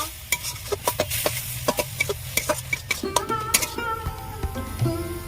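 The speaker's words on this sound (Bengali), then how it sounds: "এইভাবে ভালো করে আমি নাড়াচাড়া করব" A spoon stirs a papaya sweet mixture in a pan, rapid rhythmic scraping and tapping strokes over a soft frying sizzle, close by and without talk.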